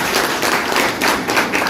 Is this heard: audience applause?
yes